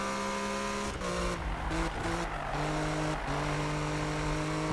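A race car in the Need for Speed video game drones through its engine revs, the pitch stepping down and climbing again through several quick gear changes, steady and close throughout.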